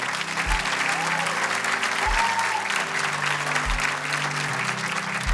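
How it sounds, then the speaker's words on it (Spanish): A church congregation claps for the Lord in a steady, sustained round of applause with low musical tones and occasional deep thumps running underneath. "Démosle un aplauso al Señor"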